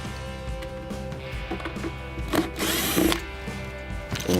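A small power driver whirs steadily while backing out screws from a Maytag refrigerator's control board housing, with faint plastic handling noises and a brief louder surge midway.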